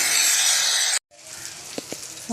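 Chopped tomatoes go into a hot pan for a Sunday special dish, giving a loud, steady sizzle that cuts off briefly, then returns as a softer frying hiss with a few light clinks.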